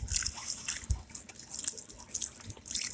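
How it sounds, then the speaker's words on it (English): Water poured into the soil of a freshly repotted parsley plant in a pot, with soft trickling, dripping and splashing that comes and goes, close and fairly quiet. "I'm giving a generous amount of water here."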